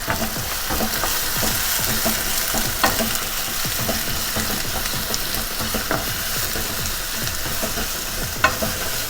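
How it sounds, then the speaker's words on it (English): Onions fry in extra hot oil for a Kerala-style egg masala, a loud continuous close sizzle with occasional stirring clicks, no talk. "So till what time usually you fry the onions?"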